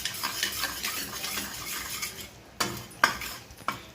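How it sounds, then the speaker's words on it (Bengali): Gram flour roasting in mustard oil in a wok, with a soft sizzle under frequent scraping stir strokes and a few sharp metal clinks of the spoon near the end, heard close with no talk. "এবার আমি এই তেলটাতে এই যে 1 চামচ বেসনটা রেখেছিলাম, এটা আমি একটু রোস্ট করে নেব"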